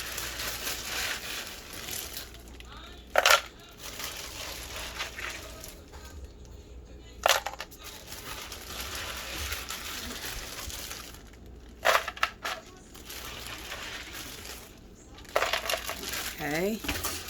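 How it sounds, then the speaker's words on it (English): Ice is dropped into a smoothie mix of sugar and orange pineapple juice, giving several sharp clattering cracks and crunches spread across the stretch over a low background hum, each burst brief and fairly loud. "Now, I'm going to put some more ice."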